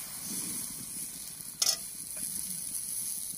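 White patishapta batter hits a hot pan with a sudden sharp sizzle burst, followed by a softer, steady frying hiss over quiet background noise.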